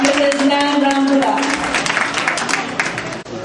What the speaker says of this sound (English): another round of applause for our newly appointed Consul General of New York